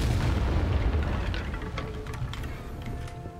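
Confringo fire spell blast in Hogwarts Legacy, a loud deep booming explosion that rumbles and fades over a few seconds with faint crackles.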